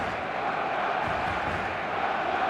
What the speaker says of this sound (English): The stadium is full of noise and energy.